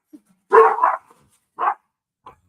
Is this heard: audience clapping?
no